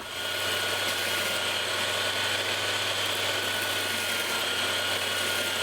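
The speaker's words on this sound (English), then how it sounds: "this main shape right here is the same shape as the drum of the sander, so I should have no problem taking care of this" A drum sander grinds steadily on a Purple Heart wood mallet, with a dense, continuous abrasive whir and motor hum that holds loud and unbroken throughout, no voices.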